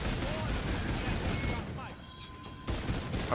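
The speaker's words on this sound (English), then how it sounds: "I'm going shoot the clowns, Camel will die." Rapid gunfire in an Infinite Warfare Zombies match as a player shoots at clowns, a dense, loud stream of shots that briefly thins out and then resumes.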